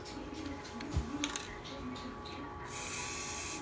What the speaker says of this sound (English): When you want to spray here, you come around to this side and spray.